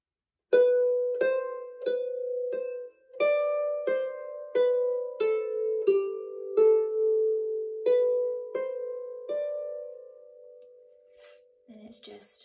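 Right-hand melody of the B part of the tune Graih Foalsey plucked on a Manx harp: about fourteen clear, resonant notes in a moderate rhythm, each ringing and overlapping the next, close and alone before fading out.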